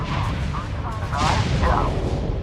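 Turret weapons fire in a Homeworld 3 space battle, a steady rumbling barrage with repeated bursts and a swelling blast midway, while a voice speaks over the combat noise.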